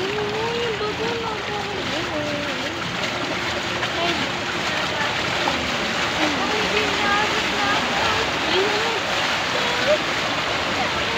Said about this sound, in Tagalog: ang lakas ng agos papunta ng munisipyo ng Dinalupihan